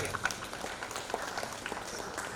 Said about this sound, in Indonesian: tepuk tangan untuk Ibu Rira Eko Rinalda